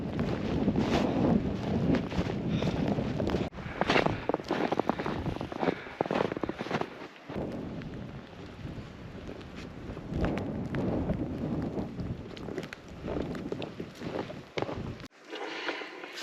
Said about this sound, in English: Now the snow is coming and the wind is coming.